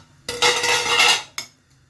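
Hot water is poured into a pressure cooker of dal, a brief rushing splash with a metallic clatter of the vessel, close and loud, followed by a short clink.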